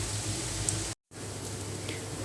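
Zucchini fritters frying in a pan on a stovetop, a steady close sizzle with fine crackling that runs continuously, broken only by a brief cut.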